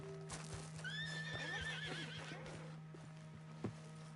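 A horse in the video game Red Dead Redemption 2 lets out a long, wavering neigh close by, over clip-clopping hooves and a steady low hum, ending with one sharp thump.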